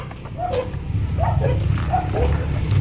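A dog barks from a rural provincial yard, several short yaps at a moderate distance over steady outdoor background noise and low rumble.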